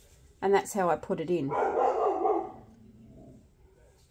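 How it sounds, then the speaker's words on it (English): A dog barks nearby in an indoor room, a quick series of sharp barks followed by a longer, rougher yelping bark, while a person talks over it. "Apologies about the dog."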